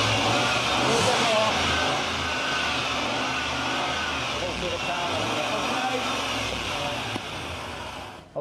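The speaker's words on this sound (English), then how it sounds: "just turn the engine on for us" A car engine idles steadily at close range, a constant mid-pitched hum and rumble that holds level for several seconds with no clear revving.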